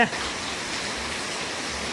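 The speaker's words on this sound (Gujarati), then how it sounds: "વરસાદ ચાલુ છે" Steady, dense monsoon rain hisses continuously, close and fairly loud, with no breaks.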